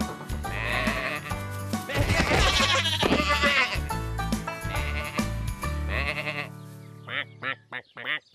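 Cartoon sheep bleat repeatedly on a farm amid background music and sound effects, several loud wavering cries, with a run of short sharp calls near the end.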